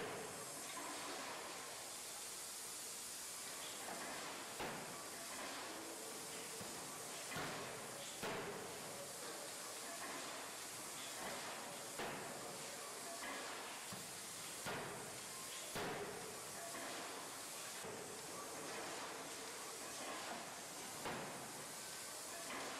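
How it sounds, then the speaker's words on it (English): A heavy pneumatic forging hammer driven by compressed air runs in a factory, with a steady loud hiss punctuated by regular sharp strikes roughly every second and a half. "By harnessing the power of compressed air, the hammer achieves remarkable efficiency and consistency in each stroke"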